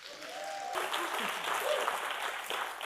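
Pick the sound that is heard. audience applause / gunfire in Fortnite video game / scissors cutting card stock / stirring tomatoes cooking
audience applause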